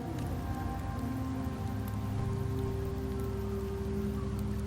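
Steady rain patters down in Septimont in the game Wuthering Waves, a constant dense wash heard alone beneath a soft sustained musical tone, with no talking.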